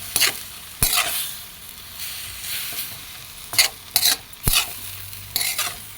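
Bean sprouts, kangkong and cabbage are stirred and fried in a pan: a continuous sizzle punctuated by several sharp utensil scrapes and clanks against the pan, close and fairly loud, with no talk.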